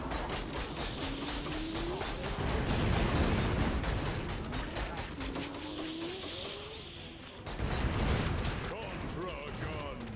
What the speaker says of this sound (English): it's literally doing 8-bit little explosions when I hit with them.